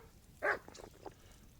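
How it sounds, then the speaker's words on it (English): A single short dog bark, close and fairly clear, sounds in Kingdom Come: Deliverance II, followed by a few faint yips against quiet background. "Oh, you found a doggy, huh?"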